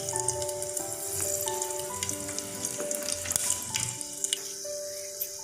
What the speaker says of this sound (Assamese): তেলখিনি গৰম হৈছে, ইয়াত মই লং আৰু দালচেনিখিনি দি দিছোঁ, শুকান জলকীয়াটো দিছোঁ।